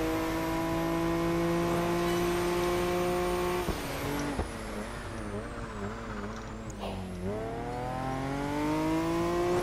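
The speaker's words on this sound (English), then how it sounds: "That bike sounds like it's being powered by a jet engine." Motorcycle engine in the racing video game Project Gotham Racing 4, a strained, whining roar with a clear tonal pitch that holds, then dips and wavers through shifts and rises again, loud and close.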